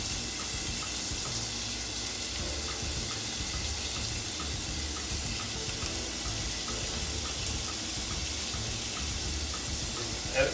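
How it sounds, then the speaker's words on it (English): Onions and fenugreek frying in a pan for a vegan Sri Lankan eggplant curry, a continuous hissing sizzle with faint crackling pops, steady and close throughout. "So we're going to throw in these onions, some of this fenugreek"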